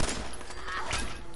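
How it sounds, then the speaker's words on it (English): Raiders firing in the video game Fallout 4: a dense, loud burst of rapid gunfire crackling continuously through a short stretch. "I hear gunshots."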